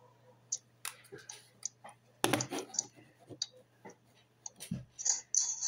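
A new wireless computer mouse gives sharp, close clicks at irregular intervals during a World of Tanks session, some single and some in quick pairs, over a low steady hum.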